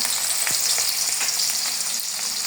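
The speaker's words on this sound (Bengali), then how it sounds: "আলু ভাজা তেলের ভিতরে দিয়ে দেবো পেঁয়াজ কুচি" Chopped onion sizzles in hot oil in a pan, a loud, steady frying hiss held at close range, with a few soft stirring scrapes and no talk.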